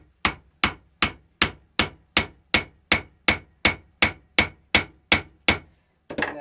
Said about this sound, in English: Use the nozzle forming rammer, and I give the nozzle about 16 good whacks.